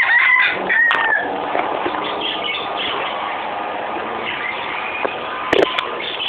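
Chickens and a rooster kept in small backyard pens give out scattered clucks and short crowing calls over a steady rural background, loud and close, with no talking.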